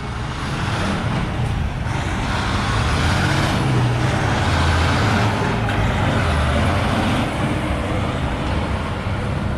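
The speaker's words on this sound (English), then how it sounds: "I saw a big truck, I panicked for a second." A big truck passing on a city street along St. Clair West, a loud, close rumbling engine with heavy road noise that swells and holds steadily, amid surrounding traffic, with no voices.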